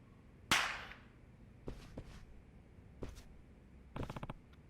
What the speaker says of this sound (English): just a bunch of local kids lighting up firecrackers and making trouble